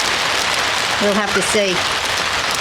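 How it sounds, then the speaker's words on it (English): Heavy rain falls in a steady hiss over an outdoor property while someone speaks briefly in the middle of it. "It's raining a lot harder."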